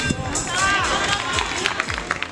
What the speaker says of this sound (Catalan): No ha vingut, però li aplaudim igualment.